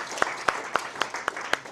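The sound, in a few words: meeting audience applause for Phil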